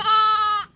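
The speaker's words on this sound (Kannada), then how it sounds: "ಕುರಿ ಹೆಂಗೆ ಕೂಗೋದು" A single short, clear bleat of a sheep, loud and close, holding a steady wavering tone before cutting off.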